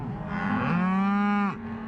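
A cow on a mountain cattle drift gives a single loud, close moo lasting a bit over a second, rising and then holding steady before it stops abruptly.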